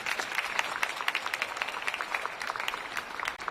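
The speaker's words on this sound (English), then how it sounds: "Let's give them a round of applause as well." Audience at a high school senior awards ceremony applauding, a steady patter of many hands clapping that sounds somewhat distant and fairly quiet, continuing throughout.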